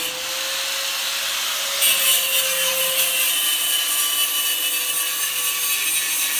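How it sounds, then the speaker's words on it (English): A tool slices through welded-in brackets on a 1966 Nova race car build, giving a harsh, steady grinding rasp that grows louder and brighter partway through and then keeps going without a break. No one speaks. "We're cutting these things off."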